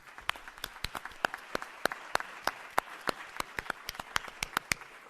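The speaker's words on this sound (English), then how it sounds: "Let's give them a round of applause, please." An audience at a mayoral candidates forum claps in a steady patter of applause, moderately loud, with sharp individual claps standing out over the crowd.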